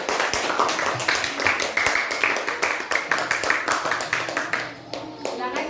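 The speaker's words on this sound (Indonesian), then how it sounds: "tepuk tangan untuk kelompok tekanan" Classroom of students clapping in a quick, steady rhythm for a group during a school science lesson, the hand claps close and continuous for several seconds before fading briefly near the end.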